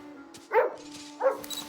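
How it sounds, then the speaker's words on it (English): Max, a pet dog companion in a video game, gives two short, soft barks about half a second apart over a low steady game hum. "He actually barks a little bit"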